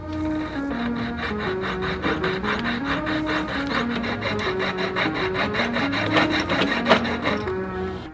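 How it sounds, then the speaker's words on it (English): A saw blade cuts through a metal spark plug gasket ring being made into a wedding band, a steady rasping stroke repeating at an even rhythm, close and continuous throughout. "And then the saw blade will follow the little nick I made if I am very good."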